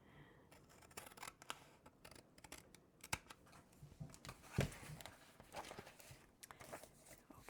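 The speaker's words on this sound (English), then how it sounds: "Just right to the corner, being careful not to cut into my signature." Scissors snip through journal cover paper, trimming a back flap to the corner in a series of short, close, fairly quiet cuts with small handling noises between them.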